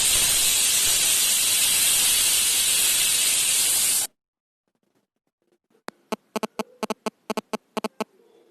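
A pressure cooker vents steam in a loud, steady hiss for about four seconds, then cuts off into near silence, followed by a scatter of sharp clicks and ticks.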